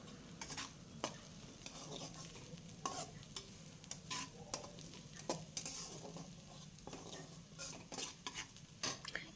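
Curry leaves fry in a pan for a coconut paneer masala, giving a soft continuous sizzle broken by repeated scraping and clinking strokes of a spoon stirring against the metal, close and fairly quiet, with no talking.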